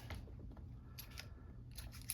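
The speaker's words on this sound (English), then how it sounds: "And then I'm just going to cut it off" Dull scissors snipping off a knotted thread during a scrap craft project, several quiet close snips in quick succession with no talk.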